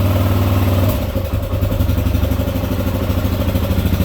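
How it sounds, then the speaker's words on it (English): A 2018 Kawasaki KLR 650 single-cylinder thumper idles up close through a Leo Vinci pipe, loud and steady with a quick dip in revs near the start before settling into an even, pulsing beat. "Starts right up. You can hear the thumper."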